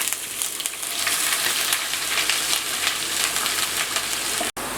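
Garlic and ginger fry in hot oil alongside curry leaves for a Kerala beef pickle, a close, steady crackling sizzle throughout with a brief dropout near the end.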